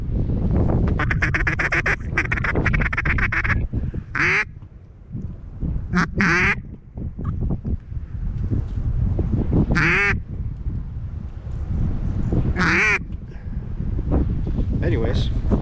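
A duck quacks repeatedly in loud, rasping bursts on a late-season Wyoming river hunt, close to the microphone amid heavy wind noise.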